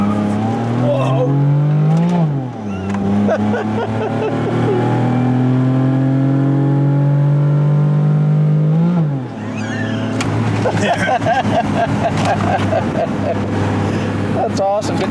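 A Pontiac Firebird race car, a cheap project build, accelerates hard with torque steer: a loud, close engine revs and climbs through gears, dipping briefly at each shift, while people shout and talk over it.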